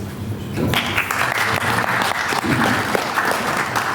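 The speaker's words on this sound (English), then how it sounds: "please join me in giving them a warm round of applause" A warm round of applause from a conference audience at a women's science day event in Marrakech, Morocco, swelling after a moment into dense, sustained clapping that carries on loudly with faint crowd voices.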